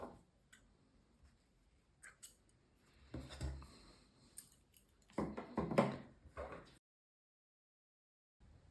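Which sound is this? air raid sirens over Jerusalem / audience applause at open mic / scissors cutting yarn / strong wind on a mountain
scissors cutting yarn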